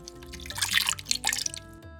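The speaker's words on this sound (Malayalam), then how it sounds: "ഈ ജാറ് കഴുകി ഞാൻ ഇതിൽ ഒരു 1/2 കപ്പ് വെള്ളം മാത്രമേ ചേർക്കുന്നുള്ളൂ" Water from a rinsed jar is poured into a pot of buttermilk for Kerala moru curry, a close, splashy liquid trickle with bubbling drips lasting a couple of seconds.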